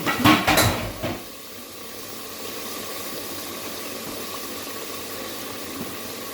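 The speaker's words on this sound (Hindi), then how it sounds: "अब मैं इसके अंदर डालूंगी कद्दू।" Bottle gourd pieces tipped into a pot of fried mutton give a loud clattering splash for about a second. A low, steady sizzle and simmer follow, with no talking.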